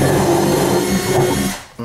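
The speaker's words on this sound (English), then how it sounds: "these I'm drilling a little bit to the high side of my bottom piece of wood" Power drill boring into wood while kitchen cabinets are installed, a steady close whirring grind that eases off near the end, with no talk.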